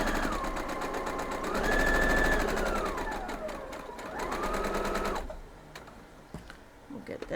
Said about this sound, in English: I'm just sewing them right now.